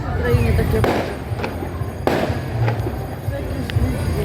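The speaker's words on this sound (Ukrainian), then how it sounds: "А, це фейерверки." Fireworks crack and boom in several sharp, irregular bursts at a moderate distance over a quayside in Bulgaria, with a voice heard between the blasts.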